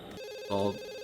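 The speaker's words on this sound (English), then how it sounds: "Now he's getting a phone call." A telephone rings with one short electronic burst in The Sims 2, clear and moderately loud over a soft, steady background tone.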